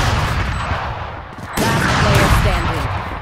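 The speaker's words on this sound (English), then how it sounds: "I hit her with the shotgun there for 107." Shotgun blasts and other gunfire crowd a round of Valorant in loud, harsh bursts, with a sharp jump in intensity midway and faint voice-like traces in the later part.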